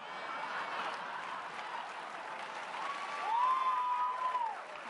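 A conference audience at CPAC 2015 breaks into steady applause and scattered cheering, a dense wash of clapping at moderate distance with a brief whistle rising above it near the end.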